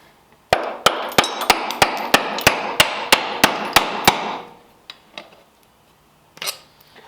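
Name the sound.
hammer striking an engine intake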